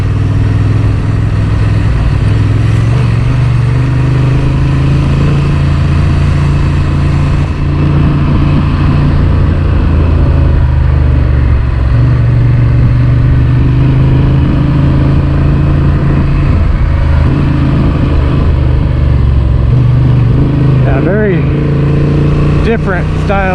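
A Honda Transalp motorcycle climbs a small sandy hill, its engine droning loud and continuous with shifting low tones, overlaid by heavy wind and road rumble.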